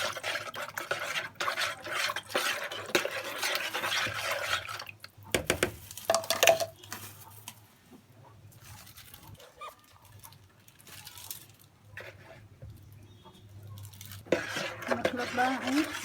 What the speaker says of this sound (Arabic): ونحط معلقتين كبير زيت بس نقلب بالمكونات